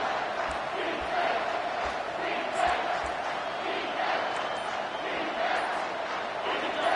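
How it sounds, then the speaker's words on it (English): A football stadium crowd roars steadily as the defense lines up on third down, a broad, sustained wall of noise under a commentator's voice. "Decibels rising as the crowd gets behind this defense on third down"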